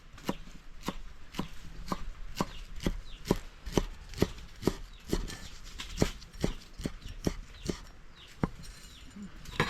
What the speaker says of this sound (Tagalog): Ihiwa-hiwain lang natin to siya ng maliit.